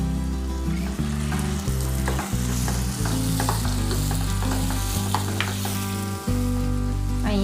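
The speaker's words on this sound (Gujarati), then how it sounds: "આપણું ટામેટું મેલ્ટ થાય ત્યાં સુધી આપણે ગ્રેવીને પકાવી લઈશું" A tomato gravy with green garlic cooks in a pan, sizzling steadily with occasional stirring clicks, while rhythmic background music plays loudly over the cooking.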